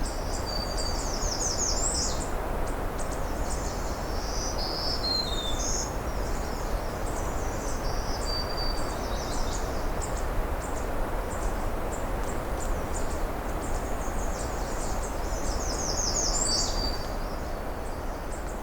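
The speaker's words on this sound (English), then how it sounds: "Of course, lots of redstarts here too." American redstarts sing at Pine Tree Point North on a June afternoon, their thin, high, repeated phrases sounding faint and somewhat distant over a constant hiss of insects.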